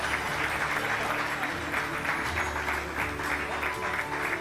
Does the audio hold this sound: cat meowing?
no